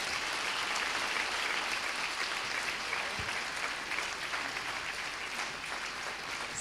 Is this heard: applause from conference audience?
yes